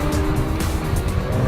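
A mid-engine 2015 Lamborghini Aventador Roadster with a naturally aspirated 6.5-liter V12 drives past, its engine a loud, steady roar with a brief surge around the middle and a hint of tire noise, alone without voices.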